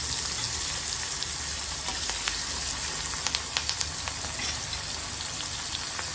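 Chillies sizzling in hot oil for a mixed vegetable dish, a steady close crackle with scattered small pops and spits, no voices over it.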